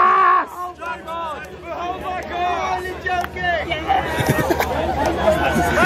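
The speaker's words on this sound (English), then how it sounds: "Crowd giving Jay some banter there" Quidditch match crowd chattering and calling out banter at a player coming on during a quarter-final, a dense hubbub of many voices with shouts rising toward the end.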